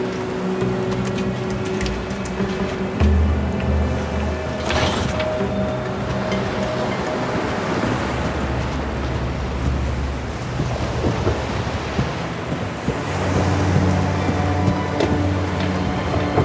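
Boat cutting across choppy waves in the video game 007 First Light, with a steady rumbling wash of water and engine drone running throughout, swelling louder near the end, with no talk over it.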